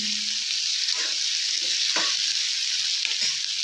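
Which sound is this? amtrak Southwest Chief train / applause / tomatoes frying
tomatoes frying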